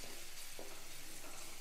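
Finely chopped garlic fries in a pan for paneer chapati and baby corn chilli, giving a steady, soft, even sizzle with faint stirring scrapes and no talk.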